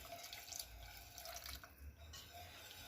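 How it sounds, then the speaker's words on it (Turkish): Water poured little by little into tomato soup as a faint, continuous trickle and splash, quiet and close, with a brief pause near the end before it resumes, no talking. "Daha sonra üzerine suyumu ekliyorum. Azar azar ekliyorum."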